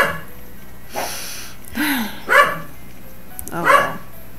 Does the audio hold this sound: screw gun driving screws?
no